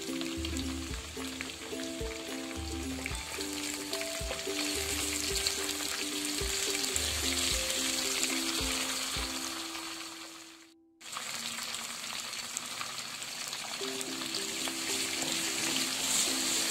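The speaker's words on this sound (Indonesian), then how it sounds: "Terus nanti kita masukin bumbu, tumis dengan baik dan benar." Shallots and spices sautéing in oil left over from frying duck, a steady close sizzle with a short break partway through.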